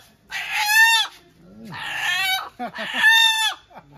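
Desi chickens cluck and crow loudly and close by, with three strong drawn-out calls in a row separated by short softer clucks, and no talking.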